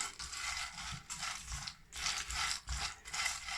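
Egusi seeds roast in a pan, giving a rapid run of small dry pops and crackles in uneven bursts, fairly close and moderately quiet.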